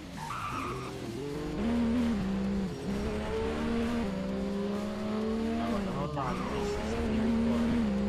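Car engine drones and tires squeal as a vehicle drifts in the Driving Empire racing video game, with a sustained rising and falling tone throughout and some voice-like sounds mixed in.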